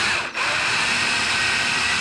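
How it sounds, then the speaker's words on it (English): A power drill bores at an angle into a Corvette C4 inner door panel, a close, steady, loud whine with broadband grinding, briefly dipping near the start before holding constant. "I probably could drill some smaller little pilot holes first"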